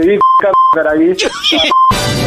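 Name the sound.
phone call disconnect beep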